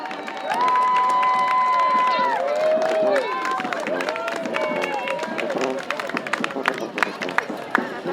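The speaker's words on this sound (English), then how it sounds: "Now for the biggest applause of the day." Parade crowd at a Heritage Day parade, cheering and applauding with shouts and scattered claps, mixed with a few sustained whistle-like tones and continuous background chatter.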